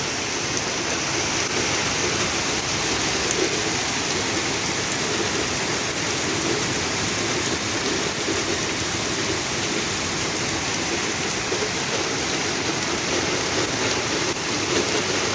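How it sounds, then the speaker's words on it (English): Heavy hail pelting down on an allotment plot, a dense, steady, hissing roar of impacts that stays loud and unbroken throughout, with no voices over it. "Gosh, that's heavy. Oh, that's hail."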